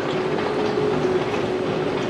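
An MRT train near Taoyuan Airport in Taiwan gives a loud, steady rumble with a constant rolling roar and a faint whine, with no talking.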